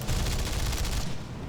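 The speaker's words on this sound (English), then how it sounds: "I got the rear gunner, which is a light machine gun." Rapid, sustained burst of light machine gun fire from the rear gunner's turret on a Ki-45 attack plane in War Thunder, loud and close, rattling steadily for over a second before cutting off.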